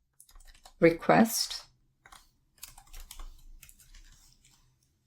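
Code is typed on a computer keyboard in quick bursts of crisp clicks, close and clear, with a voice briefly speaking between the runs of keystrokes.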